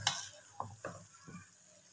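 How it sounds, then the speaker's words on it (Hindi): Boiled rice being tossed with vegetables in a wok for chicken fried rice gives a few quick scrapes and soft stirring scuffs over a faint sizzle, with a sharper clatter at the start. "अब हमने इनको अच्छे तरीके से जो है वो मिक्स कर लेना।"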